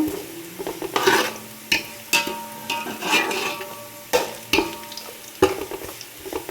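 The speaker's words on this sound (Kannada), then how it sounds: "ಅದು ಈ ರೀತಿ ಫ್ರೈ ಆಗಬೇಕು" Basale pundi, a Tulunadu dish with greens, fries and sizzles in a pan with repeated stirring scrapes and utensil knocks against the pan, steady and close with no talking.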